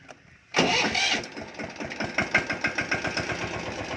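A tractor engine cranks and fires up abruptly, then settles into a loud, close, rhythmic chugging idle with knocking pulses.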